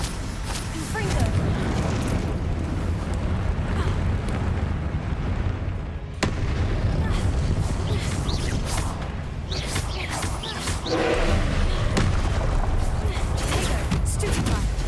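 Confringo spell blasts in a PlayStation Harry Potter–style wizard game, loud booming explosions and crackling impacts amid mechanical clatter, with spoken spell incantations over the din.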